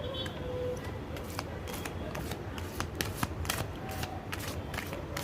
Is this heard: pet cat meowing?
no